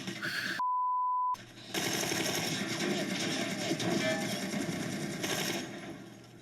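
Rapid gunfire from a TV drama scene, a dense sustained burst of shots running for several seconds after a short electronic beep, with the level dropping off at the end.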